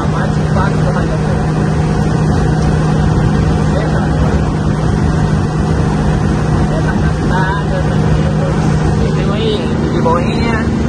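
A car with a leaking radiator, carrying a load of tomatoes, is driven gently to keep the engine from overheating. A constant engine drone and road rumble run throughout while someone talks over it.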